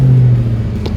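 A 1965 Backdraft Cobra with a Coyote engine idles at a fast warm-up speed, giving a loud, close, deep, steady rumble with no voices.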